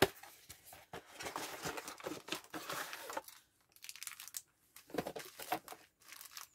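Plastic packaging on diamond painting greeting cards is torn open, giving soft, close crinkling and rustling in irregular bursts with short quiet gaps.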